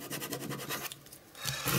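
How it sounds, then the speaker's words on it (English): A Ranger scraper drags across a craft mat to lift dried glue, giving a close run of rhythmic rasping strokes, a short lull, then louder scraping toward the end. "give the maps a bit of a scrape and a bit of a clean"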